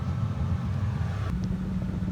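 Low, steady idle from an old Plymouth Duster engine running at about 1,000 RPM with the air conditioning on, a close, even rumble throughout.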